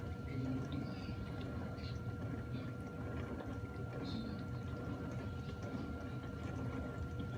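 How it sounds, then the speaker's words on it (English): Steady rushing of water filling a GE dishwasher on a normal cycle, a continuous muffled wash with faint background hum and occasional soft drips. "You hear that water filling on?"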